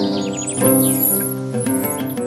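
A hoopoe calls in short bursts, with bright chirping notes and a tonal, harmonic call repeated a few times, fairly close and clear.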